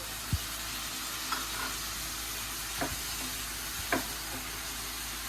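Masala frying in a pan for coconut-milk jeera rice and pea kurma, a steady close sizzle with a few soft stirring knocks and scrapes, no voices.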